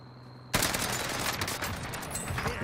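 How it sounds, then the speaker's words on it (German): In a video game, gunfire hits the player: after a quiet hum, a sudden dense barrage of rapid, overlapping shots and impacts starts and keeps up loudly without pause. "Bin unter Beschuss."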